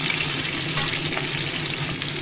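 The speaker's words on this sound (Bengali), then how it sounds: "নুন হলুদ আর একটু লাল লঙ্কা আমি দিয়ে ভেজে নেব" Chunks of potato and raw green banana fry in hot oil with bay leaves, giving a steady, loud, continuous sizzle with faint stirring throughout, no voices.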